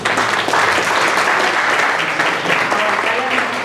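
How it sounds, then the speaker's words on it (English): Dense applause from an audience at a Fort Worth community breakfast, steady and loud for nearly four seconds, with a few voices mixed in underneath the clapping. "Please give a round of applause for Ray de los Santos."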